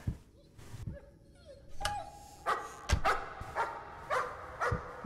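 A dog barks repeatedly from a painting in the VR horror game Layers of Fear, a series of sharp, echoing barks at a steady pace, growing denser toward the end, with no speech.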